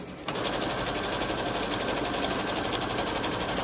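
A flatbed embroidery machine stitches a potholder, its needle hammering in a fast, steady rhythm that starts abruptly and runs loud and close without pause.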